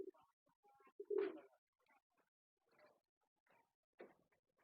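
Soft, intermittent cooing from pigeons nearby in a pigeon farm during egg-laying, low throaty calls in short bursts with quiet gaps between them.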